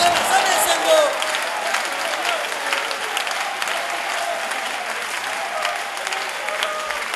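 A congregation applauds during a Feast of Tabernacles church service, sustained crowd clapping heard at moderate distance, slightly stronger at first and then holding steady, with voices beneath it.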